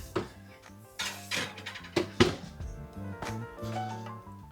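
A metal Yorkshire pudding tray being put back into an oven, with clattering metallic knocks and a few thunks against the oven rack, close and moderately loud, no talking.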